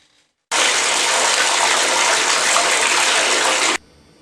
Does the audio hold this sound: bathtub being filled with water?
yes